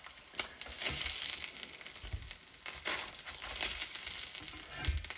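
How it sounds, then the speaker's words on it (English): Quiet, steady sizzling and crackling of sausages shallow frying in a pan, with occasional soft pops and a few clatters. "Just shallow frying them"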